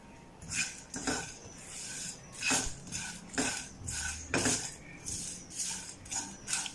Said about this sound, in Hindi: स्लो फ्लेम पे हमने इनको ड्राई रोस्ट करना है।